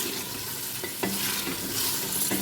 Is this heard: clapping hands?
no